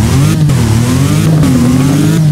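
Engine of the Lycan Hypersport car in the Roblox-style driving game Driving Empire, a steady loud mid-pitched drone that rises and dips slightly as it revs, continuous and alone with no talking.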